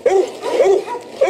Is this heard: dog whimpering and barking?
yes